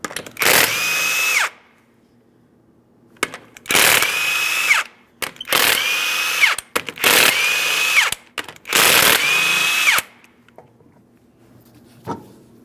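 A power tool spins off five 21mm lug nuts from the driver's side rear wheel of a 2005-2010 Chrysler 300, loud close whirring bursts of about a second each with short gaps, followed by faint clicks and a brief knock.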